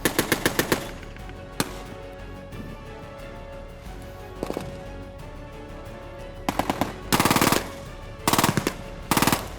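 An M60 machine gun firing during a Gulf War tank battle re-enactment, short rapid bursts with single shots between and denser bursts clustered near the end, loud and close.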